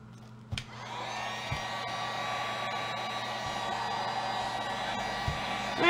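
A heat gun blows a steady, loud whooshing hiss as it shrinks shrink wrap. It starts after a click and runs continuously, broken only by a few soft thumps.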